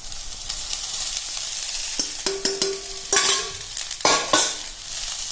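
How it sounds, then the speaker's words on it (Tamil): Cooked rice stirred into sautéed onions in a pan for pepper rice, with a steady sizzle and several sharp scraping strokes of a spoon against the pan, close and clear with no talk. "இப்போ வெங்காயம் வதக்கியாச்சுங்க. இப்போ இதில் நம்ம சாதத்தை சேர்த்துடலாம்."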